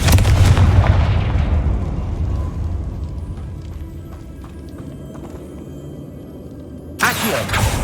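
Confringo blasting spell in the Hogwarts Legacy video game, a loud booming explosion at the start decaying into a rumbling tail, followed by a second sharp burst near the end.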